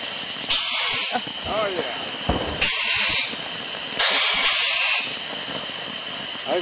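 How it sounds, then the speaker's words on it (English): Quail pounder fireworks at a display of fountains, cake shots and artillery shells shriek off in three loud, whistling bursts of about a second each, separated by short gaps with faint talk between them. "There's some quail pounders going off."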